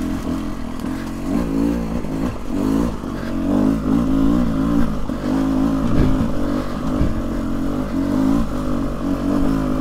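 A 2023 Beta 300 Race Edition dirt bike engine crawls up a hill on a mountain trail, a loud, close, rough two-stroke drone with uneven throttle surges and some clatter, no talking.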